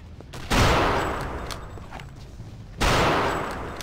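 Gunfire in the video game Return to Castle Wolfenstein: two loud, sharp sniper rifle shots about two seconds apart, each followed by a long decaying echo.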